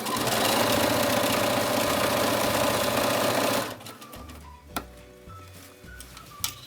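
A sewing machine stitches a T-shirt neckline in a loud, fast, continuous whirring run of about three and a half seconds, then stops, leaving soft handling clicks and small knocks.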